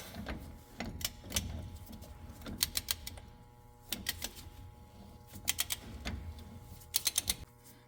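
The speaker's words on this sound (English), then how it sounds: "we're going to tighten it down and spin the hub at the same time" A semi trailer wheel hub nut is tightened while the hub is spun, giving bursts of rapid metallic ratcheting clicks between quieter stretches of mechanical rumble, fairly close.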